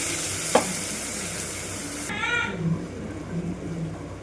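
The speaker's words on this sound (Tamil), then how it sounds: "சீரகம், வெங்காயம், பச்சை மிளகாய் இதெல்லாம் போட்டு வதக்கிட்டு இருக்கேன்." Cumin, onion and green chili sautéing in a pan, with a steady close sizzle and a brief sharp clink early on, then softer frying and stirring.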